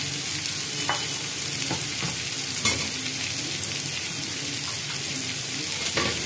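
Chilli, coriander, cumin and turmeric powders fry in a frying pan for paneer butter masala, a constant loud sizzle broken by occasional spoon scrapes and taps as the spices are stirred.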